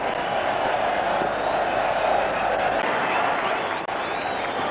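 A huge cricket crowd in Lahore roars in a broad, sustained wash of noise, loud and continuous, like a packed stadium murmuring and cheering without pause.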